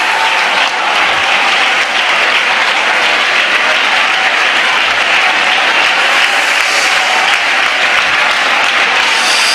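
A church congregation at a Tamil Christian service claps loudly and continuously, a dense, steady wash of applause filling the room without pause.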